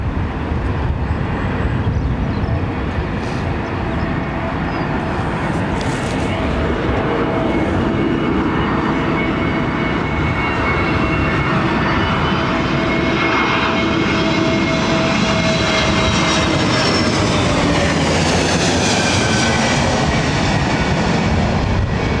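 A jet airliner on approach to London Heathrow passes low overhead, a loud, continuous roar that builds and rises in pitch toward the end, heard close with no voices.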